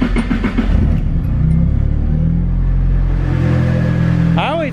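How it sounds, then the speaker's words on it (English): A car engine starting up, a loud steady idle rumble close by after a short crank, carrying on throughout with a brief voice at the start and a squeak near the end. "we're gonna give her a start up just cause"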